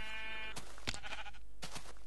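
Minecraft sheep bleat close and clear, a couple of short wavering calls among scattered game sounds, with no voices.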